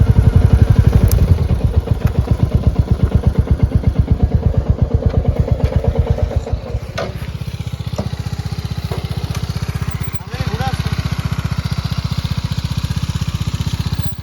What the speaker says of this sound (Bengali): তো আমরা স্টেশনে বাইক চালাচ্ছি, স্টেশন মানে প্ল্যাটফর্মে বাইক চালাচ্ছি।